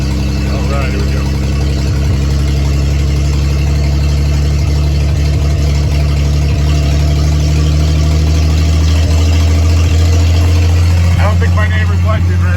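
A 1948 Plymouth P15 Special Deluxe engine runs loud and steady close by, a low idling rumble that holds throughout with slight shifts in tone, while a person talks over it.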